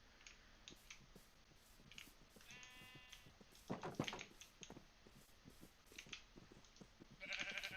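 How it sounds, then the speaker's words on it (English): Sheep in the Minecraft video game bleat several times amid a scatter of quiet clicks and game sounds, the bleats short and wavering, some louder and nearer, others fainter. "there's another sheep right here."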